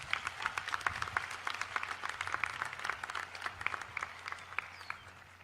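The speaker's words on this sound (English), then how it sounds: "Let's give them a round of applause." Graduation-day audience at a college commencement breaks into applause, a dense, even patter of many hands clapping at moderate distance, sustained for several seconds before slowly thinning.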